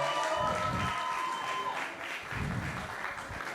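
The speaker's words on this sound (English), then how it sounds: "Let's give her another round of applause" An audience at a sangeet celebration applauds after a heartfelt performance, with dense, steady clapping that is loud at first, dips briefly and then swells again, with faint crowd murmur underneath.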